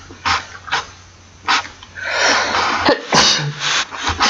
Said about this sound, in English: Excuse me, I might have to sneeze in a second.